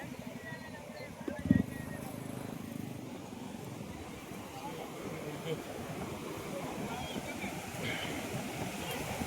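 Sea waves wash in at Alibag beach as a constant broad rush mixed with wind, while people talk over it and a passing engine hums in the background.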